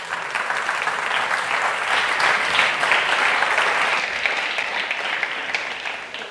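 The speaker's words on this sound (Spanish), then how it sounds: "Un fuerte aplauso para Gaby Ochoa." Audience at a presentation in València gives a hearty round of applause, dense continuous clapping from a crowd that holds steady and then tapers off toward the end.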